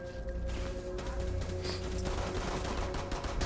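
Rapid bursts of automatic gunfire from the Rainbow Six Siege video game, loud and close, with sharp repeated shots over dense game ambience and no talk.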